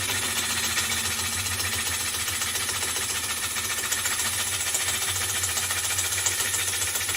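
Gouge cutting a large wooden platter spinning on a lathe, a loud continuous rough rumbling chatter with a steady machine drone underneath, unbroken throughout.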